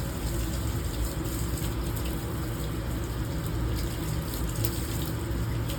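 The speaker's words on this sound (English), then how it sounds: "So we'll get the deionized water and do a final rinse." Deionized water pours steadily over a polished AlSi10Mg 3D-printed tensile bar sample during a final rinse after alumina pad polishing, a continuous close splashing flow with no pauses.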